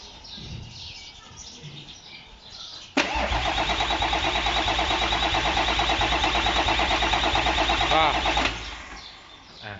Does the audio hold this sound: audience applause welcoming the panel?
no